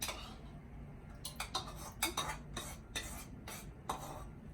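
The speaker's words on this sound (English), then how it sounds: "what I do is stir it evenly, so that it gets to each and every particle inside the yogurt" A steel spoon stirs yogurt into milk, clinking and scraping against the container in a quick, irregular series of taps, close and fairly quiet.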